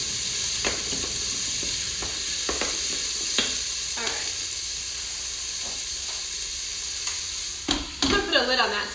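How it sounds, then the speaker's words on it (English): Ground beef sautés in a pot for hamburger vegetable soup: a steady, close hiss and sizzle runs throughout, broken by scraping stirs, with a burst of clattering near the end. "A lid on that so I don't have to shout over the sauteing sound"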